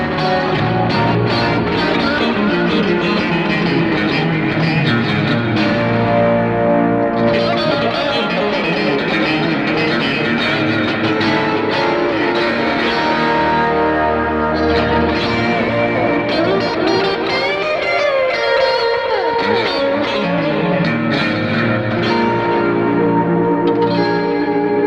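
G&L electric guitar in the fourth pickup position with every control turned fully up, ringing chords and sustained notes with a bell-like shimmer and heavy reverb, loud and continuous on its own.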